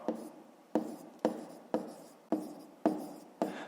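Pen or pencil writing by hand on paper while working a fifth-grade maths exercise, with seven short scratchy strokes at steady half-second intervals, close and quiet, no talking.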